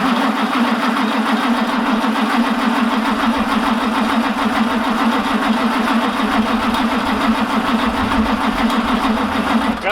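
A truck engine at an abandoned racetrack cranks and turns over after a jump start from another running truck. It gives a loud, steady, pulsing mechanical drone close by for the full stretch.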